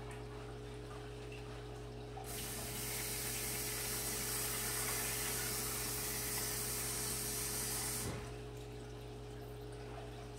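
A tap runs water for rinsing pinto beans, a steady broadband rush that starts suddenly, holds for about six seconds at moderate loudness, then cuts off over a low background hum.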